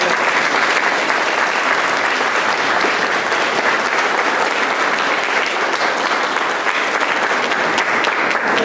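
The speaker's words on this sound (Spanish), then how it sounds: "Vamos a darle un fuerte aplauso." A large crowd gives loud, sustained applause at a quinceañera celebration, a thick, continuous roar of clapping that stays strong throughout.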